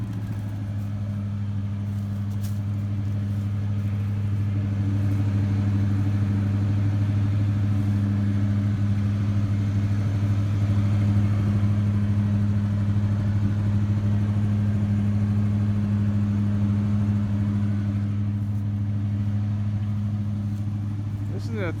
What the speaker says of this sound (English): 351 Windsor 2-barrel. Fired right up. No smoke.